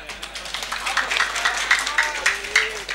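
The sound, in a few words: audience clapping during a religious talk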